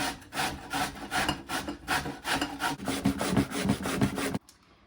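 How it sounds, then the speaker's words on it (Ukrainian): Zucchini grated on a coarse hand grater, producing a steady rhythm of rasping strokes, roughly two per second, close up and loud, before it stops abruptly near the end. "натираємо на ось таку крупну терку"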